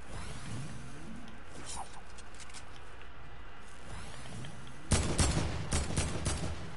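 Submachine gun fire in an online shooter game on PS4: a quiet stretch of game ambience, then a loud, rapid, crackling burst of shots in the last two seconds.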